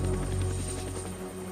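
A helicopter carrying passengers toward the coast drones steadily throughout, a continuous close rotor and engine hum with no pauses.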